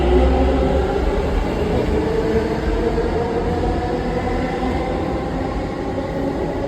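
A metro train runs along the track with a loud, continuous rumble and rolling hum heard from inside the car, steady throughout and without talk.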